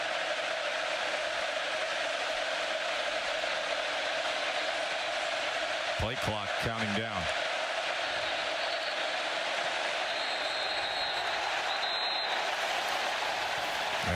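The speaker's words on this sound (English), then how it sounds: "This crowd just never stops." A packed home crowd roars nonstop at a Texas A&M college football game against Missouri, a dense, steady wall of stadium noise with a brief horn-like blare partway through and announcer talk over it.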